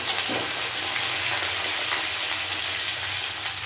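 Chopped onion frying with potato and vegetables in hot oil for a fish curry, a steady, loud, close sizzle and crackle with no talk.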